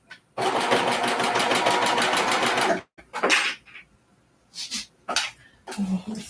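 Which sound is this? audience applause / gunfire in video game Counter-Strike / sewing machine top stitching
sewing machine top stitching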